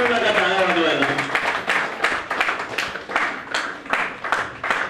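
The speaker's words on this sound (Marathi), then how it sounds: "टाळ्या चालू राहू दे" Rhythmic audience clapping at a Jageshwar SRA co-operative housing society meeting in Shivdi. It rises after a voice speaks at the start and continues in steady, evenly spaced bursts of moderate loudness.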